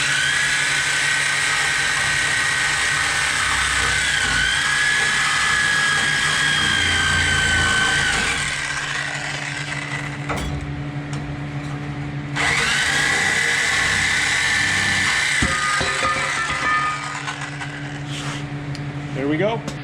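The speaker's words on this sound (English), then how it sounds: "So I got the Sawzall and came through and sliced that tube off level with the cut." Sawzall reciprocating saw slicing through a steel frame tube on a pickup build, a loud continuous buzzing cut that pauses briefly and resumes, with talk mixed in.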